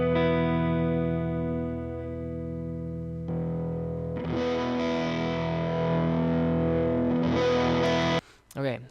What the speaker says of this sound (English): this is when I went to the Overdrive channel